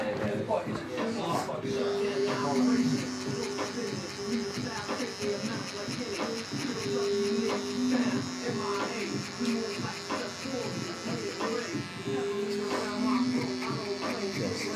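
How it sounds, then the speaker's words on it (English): A lithium cordless detailer trimmer buzzes steadily while taking weight out of a men's Caesar skin fade, a continuous close electric hum with shifting pitch bands as the blade works through hair. "we're going to remove this weight with a lithium detailer"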